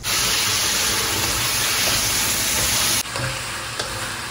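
Marinated chicken, seasoned with lemon, salt, red chili powder, chicken masala and yoghurt, goes into a pan of fried onions for a south-style peanut chicken, and a loud, steady sizzle and hiss of frying continues throughout, easing slightly partway through.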